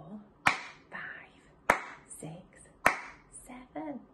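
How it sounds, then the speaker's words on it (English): Three sharp, evenly spaced hand claps ring out close by during a nursery maths counting game, with someone speaking in the gaps between them. "I did 7 claps that time"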